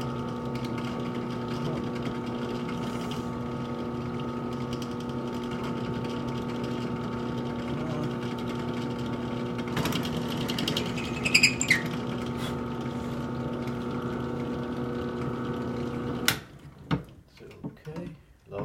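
A spade bit bores the air hole and tobacco chamber of a pipe, giving a steady, close mechanical drone for about sixteen seconds with a brief scraping flurry partway through, then stopping abruptly into a few light knocks.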